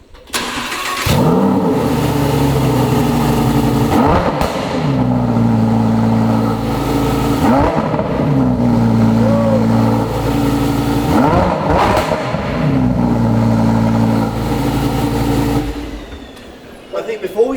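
A Lamborghini from a multimillion-dollar car collection revs its engine loud and close, with repeated throttle blips rising and falling over a steady idle for most of the stretch, alone without talk.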